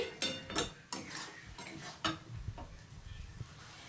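Meat being sautéed and stirred in a pan, quiet scraping and clinking of a spoon against metal in irregular strokes over a faint low sizzle.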